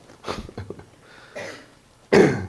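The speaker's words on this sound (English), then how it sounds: "if I clear my throat a lot, I apologize" A few rough throat-clearing sounds, close to the mic, ending with one louder, harsher burst.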